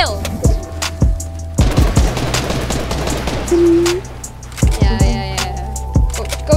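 Loud AK rifle fire in a video game, several sharp bursts and single cracks with brief gaps between them, close and punchy, with a player's voice now and then.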